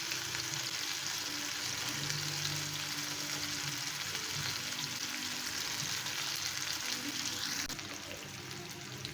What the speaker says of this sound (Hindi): ये कैरेट हमारी थोड़ी सी फ्राई हो गई।